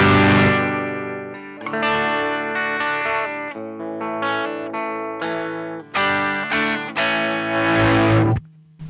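A compressor pedal from a Harley Benton kit shapes an electric guitar played as a string of sustained, evenly levelled chords and notes, loud and close, ending with a brief buzz.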